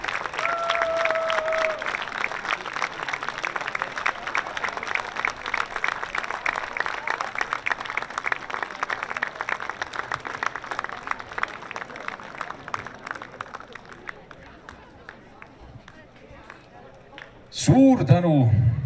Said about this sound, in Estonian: Ja palun üks suur aplaus veel meie juhendajatele ning